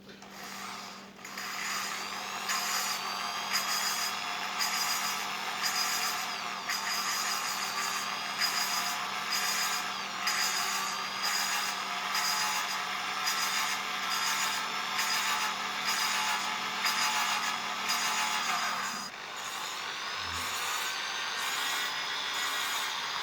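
An engine valve is lapped against its seat during valve grinding, a steady close gritty rasping whir with rhythmic pulses as the direction of rotation changes, over a low hum, ending with a brief pause and a soft knock.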